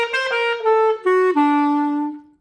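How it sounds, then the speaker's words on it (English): A clarinet plays the opening phrase of a song in a warm, reedy tone, a short run of sustained notes stepping downward, close and loud, with no one talking. "Now, if I took that same music and played it on my clarinet,"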